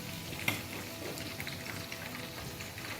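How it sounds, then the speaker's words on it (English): Tatashe pepper sauce sizzles and spits steadily in a hot pan, a dense crackling hiss with one sharper pop near the start. "I'll be frying the tatashe sauce that I've already ground."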